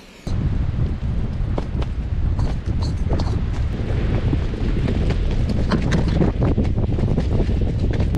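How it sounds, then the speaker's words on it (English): Strong winter storm wind sweeps a remote beach, roaring and buffeting the microphone in loud, continuous gusts with rumbling low-end rattle throughout. "I hope you guys can still hear me with this wind and all that."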